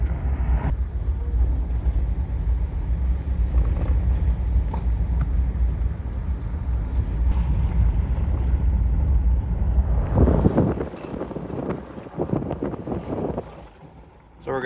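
A full-size truck rolls along the bumpy Going-To-The-Sun Road in Glacier National Park, Montana, with a constant low road and wind rumble, then a burst of jolting clatter near the end before it quiets.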